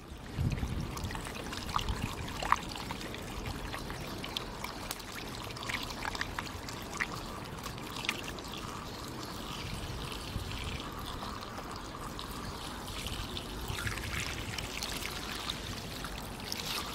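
Thick two-stroke oil and fuel mix poured into a pocket bike's fuel tank, a steady continuous liquid trickle and splash running close and fairly quiet throughout with no talk.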